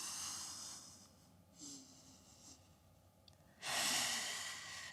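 Slow, deep yoga breaths are taken during a hamstring stretch: soft inhales and exhales close to the mic, ending in a long, strong exhale, with no talking.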